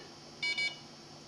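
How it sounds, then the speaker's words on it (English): A data logger with probes gives two quick, high electronic beeps in succession, close and clear over a quiet background hum. "It just went beep beep."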